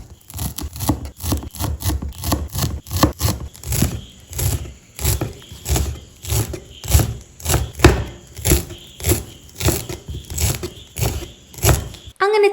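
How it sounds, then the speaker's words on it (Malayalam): Steady rapid knife chopping of fresh coriander leaves on a cutting board, close and loud, a rhythmic train of sharp taps continuing throughout with brief uneven pauses. "ഇനി നമുക്ക് മല്ലിയിലയാണ് അരിഞ്ഞ് ചേർത്ത് കൊടുക്കേണ്ടത്"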